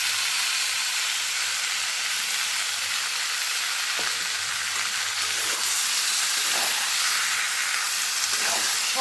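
Potatoes frying with onion, tomato and ground spice paste for Bengali aloo dum, a steady bright sizzle and hiss throughout with occasional stirring scrapes, close and continuous with no talk.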